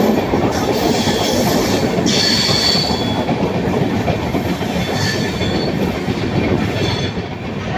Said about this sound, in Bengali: আমাদের ট্রেন রাউন্ড হয়ে যাচ্ছে।